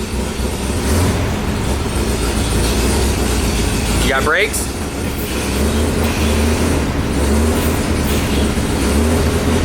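A retired fire truck's engine runs on its first drive in years, a loud, continuous low rumble throughout, with a brief spoken question over it midway.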